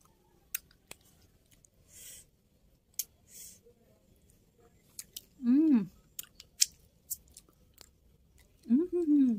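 Ice cream that is hard like ice cubes being bitten and chewed up close: scattered crisp clicks and crunches between quiet pauses, with brief voices in the background.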